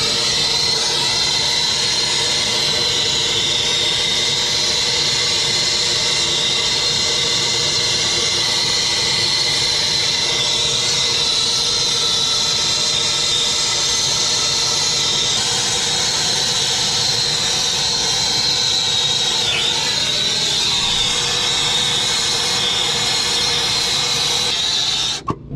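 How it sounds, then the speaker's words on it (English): A brazing torch roars steadily and close while silver braze is applied to copper pipe on a walk-in freezer, a constant hissing rush with no pauses. "now we're just going to go ahead and braze it"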